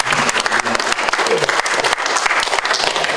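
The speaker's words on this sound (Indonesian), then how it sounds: "Kita berikan tepuk tangan untuk kawan-kawan semuanya" Applause for friends at a thanksgiving and reunion gathering of a diplomatic training class, a dense, steady round of clapping from many people close by, continuing for a few seconds with some crowd voices mixed in.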